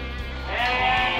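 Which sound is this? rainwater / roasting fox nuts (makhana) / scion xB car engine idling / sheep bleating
sheep bleating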